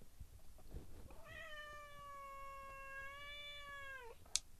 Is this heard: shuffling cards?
no